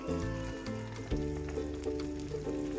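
Two tablespoons of ghee sizzle and crackle in a pan while melting for peanut jaggery chikki, a quiet steady fry with faint pops under a low hum.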